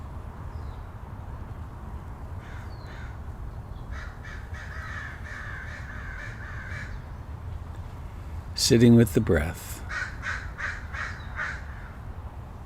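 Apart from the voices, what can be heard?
crows cawing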